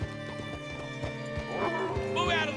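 Rhythmic clip-clop of horse hooves at a steady walk in Red Dead Redemption 2, with a horse whinnying near the end and game music and ambience humming underneath.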